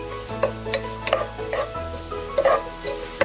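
Chicken thoran being stirred and sautéed in a pan, with a few distinct scraping strokes of a utensil over a low, steady sizzle and a faint background hum.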